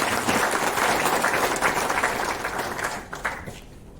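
An audience at a training workshop in Ranchi breaks into dense, loud applause, a steady roar of many hands that holds for about three seconds and then thins out toward the end.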